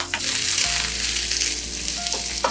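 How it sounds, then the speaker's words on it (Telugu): Tindora and asafoetida frying in oil on low heat for a traditional chutney, giving a steady, close sizzle with a faint stir and no voices. "కొంచెం గోల్డెన్ బ్రౌన్లో ఉన్నట్టుగా కొంచెం సిమ్ చేసుకొని ఫ్రై చేసుకుందాం"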